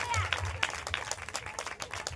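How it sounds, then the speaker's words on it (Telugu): Church congregation clapping in praise during a Christmas service, a scattered, somewhat distant run of claps with uneven rhythm, fairly quiet and heard over room murmur. "చప్పట్లు కొట్టి దేవునికి స్తోత్రం చెప్పాలి."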